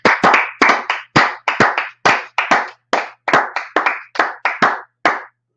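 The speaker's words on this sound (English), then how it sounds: "Let's clap it up." Loud, sharp rhythmic handclaps close by, in quick pairs and triplets with brief gaps, repeating steadily for several seconds with no talk.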